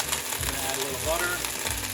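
Butter sizzles in a hot pan of blistering green beans with a splash of white wine over medium-high heat, a steady close crackling hiss that swells slightly at moments, with no voices.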